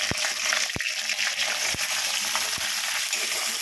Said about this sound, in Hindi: सिर्फ हरी मिर्ची और जीरा और सेंधा नमक से इसका हम तड़का लगा के फ्राई कर लेते हैं